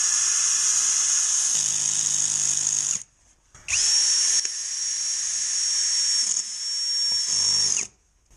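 A ZKH 16V cordless drill runs on drywall in three loud, sustained high-pitched whirring bursts, separated by short silent pauses.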